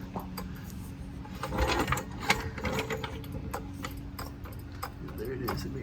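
A rapid pump floor jack is worked under a G35 car, giving a quick series of clicks and ratcheting strokes at close range, fairly loud, with brief knocks and some movement noise around them.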